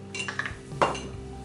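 Bowls and small dishes handled while laying out breakfast, with a few close clinks and knocks of crockery and a louder clatter midway.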